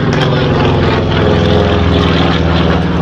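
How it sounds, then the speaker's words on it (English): A helicopter flies close by with a loud, steady engine-and-rotor drone that holds throughout, with no one talking. "See, they're flying."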